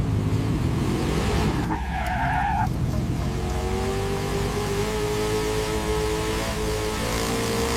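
A motorbike in an animated horror game story skids with a loud tire squeal, then its engine roars steadily at high revs, close and continuous.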